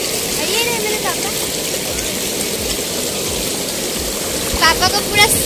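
A fast-flowing stream rushes in a constant broad roar close by, with a few faint voices and chirps near the end.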